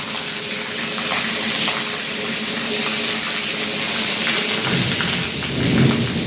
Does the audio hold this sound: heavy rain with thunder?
yes